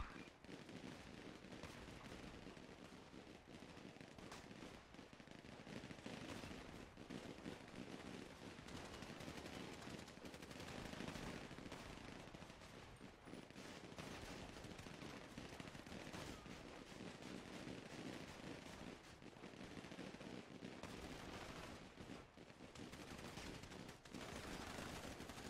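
Bots fire guns in GTA, an unbroken stream of rapid gunshots and machine-gun bursts that continues throughout at a fairly low, distant-sounding level.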